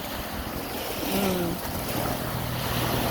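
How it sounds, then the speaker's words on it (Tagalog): Sea waves at a seaside beach wash in as a steady, loud roar, with wind buffeting the microphone throughout and no voices. "Ang ganda talaga pakinggan yung alon, nakaka-relax."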